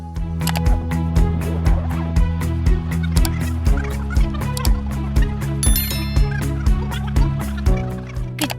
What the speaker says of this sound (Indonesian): ini adalah ular berbisa yang mematikan yang sedang diburu gerombolan ayam Gina